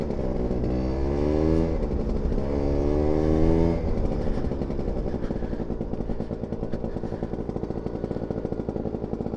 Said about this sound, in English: downshift into first, coming up here slowly. This is a strong hill